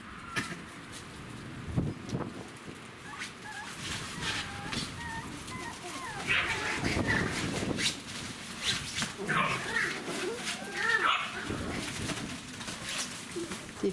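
Puppies about eight weeks old make a busy, irregular mix of small yelps, squeaks and cooing whimpers close by, rising and falling over roughly fourteen seconds while a person talks at intervals.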